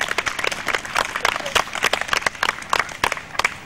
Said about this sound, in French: On l'applaudit malgré tout.